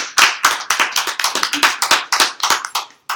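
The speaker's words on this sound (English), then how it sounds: "Let's give her a round of applause" Hands clap in a quick uneven burst, about a dozen sharp claps from a small group welcoming a childbirth educator as a guest at a talk.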